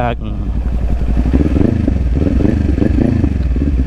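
A Kawasaki 400cc big bike ridden on the road, its engine droning loud and close with a throbbing pulse and wind buffeting throughout, while someone speaks over it.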